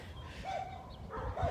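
Dogs in a neighborhood bark and yelp at a distance, a few faint, scattered calls over low outdoor background noise.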